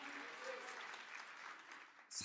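A church congregation claps together in sustained, even applause that fills the room at moderate volume, with a brief louder burst near the end and faint voices within the crowd.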